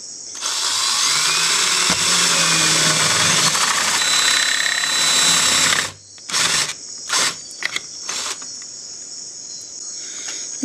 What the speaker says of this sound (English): I'm going to take a 3/4 inch drill bit, pop a hole here